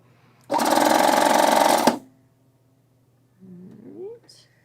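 An Acclai serger sewing a 4-thread stitch runs in one steady, loud, fast mechanical whir for about a second and a half, then stops abruptly. A short, faint squeaky sound follows.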